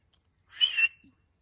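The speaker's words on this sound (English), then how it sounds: "if I turn and whistle, it's because I need them to get over here" A single short, bright whistle from a person calling puppies, rising sharply and held briefly in an otherwise quiet moment, with a faint click just after.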